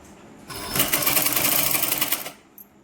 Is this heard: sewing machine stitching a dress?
yes